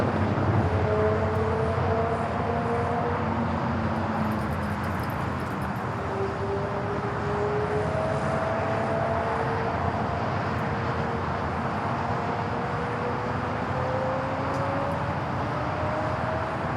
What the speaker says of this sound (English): The Dreamliner coming in from Osaka,